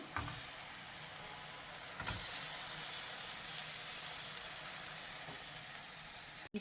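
Scored chicken leg pieces dropped into a hot pan give a steady, close, loud hiss and sizzle that continues throughout, with a couple of brief clunks of the pieces landing and no talking.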